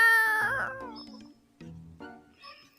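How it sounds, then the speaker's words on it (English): A domestic cat meows loudly up close, a long wavering cry that trails off, followed by two shorter, fainter meows with gaps of quiet between them. "Cat."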